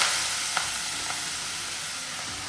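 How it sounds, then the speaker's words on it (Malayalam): Chopped spinach with grated coconut fries in coconut oil in a pan over a low flame, a constant bright sizzle with a couple of soft stirring taps near the start. "ചട്ടിയിലേക്ക് വെളിച്ചെണ്ണയിലേക്ക് ചേർത്ത് കൊടുക്കുക"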